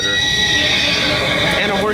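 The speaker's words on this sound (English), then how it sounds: "And a horse whinnying." A horse-whinny sound effect rings out at the Frontierland shooting gallery in Disneyland: one loud, drawn-out neigh that rises and falls over about two seconds, close and clear.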